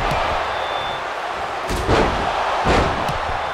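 In WWE 2K24, a wrestler is slammed down onto the ring mat with two heavy thuds over a constant roaring arena crowd.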